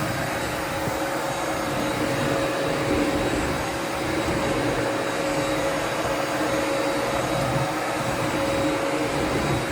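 Sebo Felix upright vacuum cleaner running steadily with adjustable motor speed, a loud, continuous, close motor roar with a steady high whine and no pauses.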